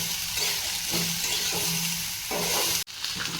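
Vegetables for Bengali shukto frying in a pan, a continuous hiss of sizzling with stirring scrapes layered on top, steady and close, with one brief dip near the end.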